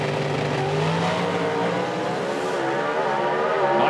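A drag racing car makes a fast pass down the strip at an outlaw nitro event in Hebron, a loud, sustained engine roar with a steadily climbing pitch and no talk.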